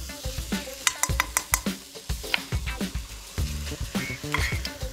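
Scrambled eggs with avocado and ham frying in a pan, a close, steady sizzle broken by rhythmic spatula scrapes and taps against the pan, no talking.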